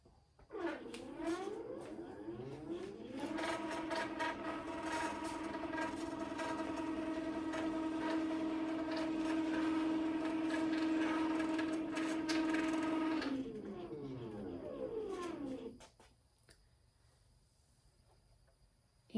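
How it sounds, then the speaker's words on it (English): A longarm quilting machine travels along its frame with a steady motorized whir that ramps up, holds for about ten seconds, then winds down and stops. "So I'm just moving my machine down here like this."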